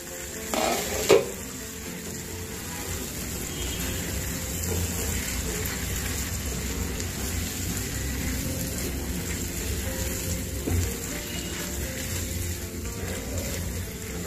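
A spoon scrapes and stirs through a pan of raw turmeric curry with tomatoes and peas, a steady soft sizzle and clatter running throughout with one louder knock near the start.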